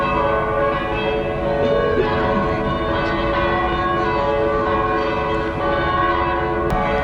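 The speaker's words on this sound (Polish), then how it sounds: "Nagle wszystkie dzwony okoliczne biją. Stamtąd słychać, z tego kościoła tu." Church bells ringing from a nearby church across Piata Unirii, a town square in Romania, sustained and dense with overlapping tones and a steady wash of ambient noise, no talking.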